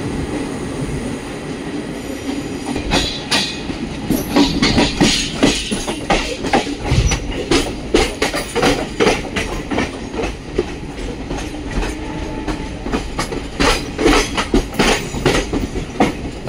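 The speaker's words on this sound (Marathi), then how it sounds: "आपली ट्रेन सरळ जाईल कसाऱ्याच्या दिशेने" A passenger train runs on the line out of Kalyan toward Kasara, a loud steady rumble from on board with rapid rhythmic clickety-clack of wheels over rail joints throughout.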